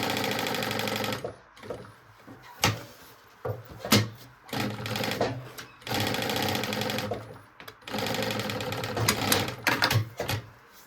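A sewing machine stitches a backpack lining in several bursts of fast, rattling running, broken by pauses with clicks and handling of fabric.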